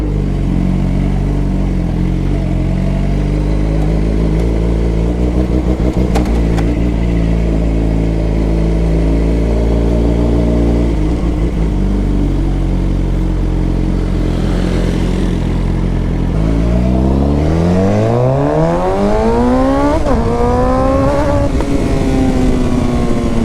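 A Suzuki GSX-R sport motorcycle rides at night, its engine droning steadily before revving hard and climbing sharply in pitch through first gear, then dropping and rising again into second, loud and close throughout.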